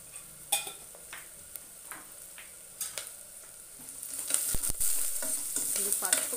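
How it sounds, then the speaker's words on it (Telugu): A spoon scrapes and stirs turmeric into a frying moong dal and tomato curry in a pan, with irregular clinks and scrapes over a soft sizzle that grows louder toward the end, with no talking. "ఈ పసుపు కలుపుకోవాలి."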